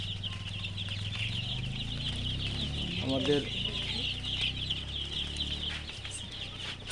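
Six-day-old Sonali chicken chicks in a rooftop poultry setup keep up a steady, high-pitched chorus of peeping and cheeping throughout, with a brief spoken word partway through.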